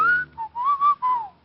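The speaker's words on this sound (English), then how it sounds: "he changed it to a low whistle" A man gives a low whistle, drawn out and sliding downward in a few connected phrases, heard clearly and alone in an old detective radio drama.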